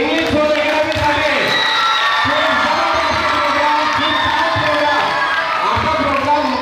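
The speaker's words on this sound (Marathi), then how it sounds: "तर खरंच एक वेळा जोरदार टाळ्या उजवू द्या इंग्लिश झोन अकॅडमीसाठी" A large crowd cheers and shouts loudly and continuously for English Zone Academy at a school programme in Muktainagar. Children's voices whoop over a constant roar, with little break in the noise.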